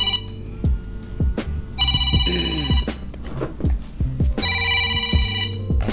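A telephone ringtone sounds in two loud bursts of repeating electronic rings over a steady rhythmic background beat, fairly close and clear with no talking.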